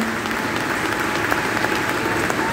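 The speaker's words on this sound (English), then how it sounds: "Big round of applause for Katee, guys." A large audience at a Fan Expo Dallas panel applauds steadily, a dense wash of clapping filling the room for the whole stretch.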